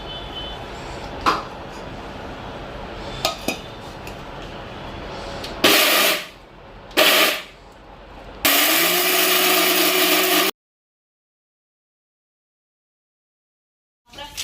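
A mixer grinder grinds toor dal chutney with water in short pulses: two brief whirring bursts, then a longer two-second run that cuts off into silence.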